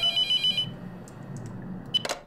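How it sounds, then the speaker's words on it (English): A telephone rings in the horror video game The Mortuary Assistant, with a bright electronic trill at the start and again near the end over a low, murmuring game ambience. No one speaks. "Oh shit, it's the phone."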